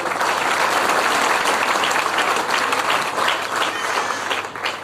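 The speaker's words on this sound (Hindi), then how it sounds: "अच्छा चलो तालियां दो" A network marketing training crowd claps in a loud, sustained wave of applause that runs steadily throughout without pause.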